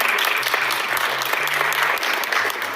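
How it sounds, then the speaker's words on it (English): Dense, steady audience applause at a political speech on economic policy, a loud continuous wash of many hands clapping with a low hum underneath. "let's give a round of applause"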